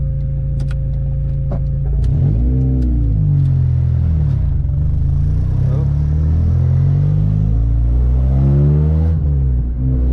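A Honda Civic with a K24 engine pulls hard through the gears, its loud, close revs climbing in repeated rising sweeps, dipping at each shift, then climbing again.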